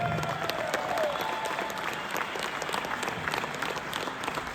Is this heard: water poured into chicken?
no